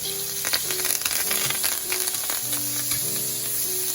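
Onion and curry leaves frying in a pan for Malaysian sambal tofu, a steady close crackling sizzle with faint stirring, no voices.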